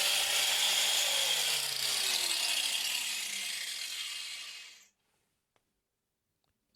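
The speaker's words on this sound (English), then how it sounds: "now I'm just using an angle grinder to expose the steel again" An angle grinder grinds a steel fuel filler bracket back to bare metal, a steady loud high whine that slowly drops in pitch as it spins down and stops, leaving near silence with a couple of faint clicks.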